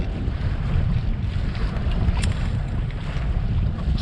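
Steady wind rushes past the microphone aboard a sailboat at sea, a constant low roar with water and hull noise beneath it and no voices.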